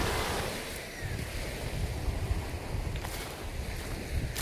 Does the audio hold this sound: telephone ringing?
no